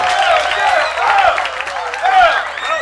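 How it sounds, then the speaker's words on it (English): A youth audience at a Uganda event on reproductive health and family planning cheers and claps in swelling waves of shouts and whoops, loud and lively, with scattered claps beneath the voices. "Can I hear applause from the youth of Uganda?"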